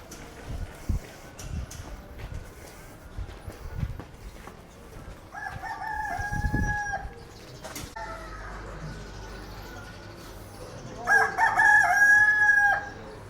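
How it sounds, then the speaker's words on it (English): Roosters crow a few times, some nearby and loud, others farther off, amid an outdoor background with faint footsteps and distant murmur in Cairo's City of the Dead. "Roosters."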